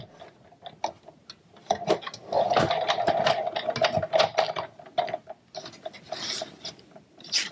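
A Big Shot die-cutting machine being hand-cranked, giving a close, rapid run of mechanical clicks and ratcheting with a whirring grind in the middle, trailing off into scattered taps at the end.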